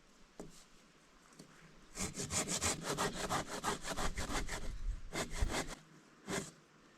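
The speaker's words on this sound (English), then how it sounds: "we'll just bust out the silky saw" A folding Silky hand saw rasps through wood in quick, steady back-and-forth strokes, close by in the Canadian wilderness, with a short pause before a final few strokes.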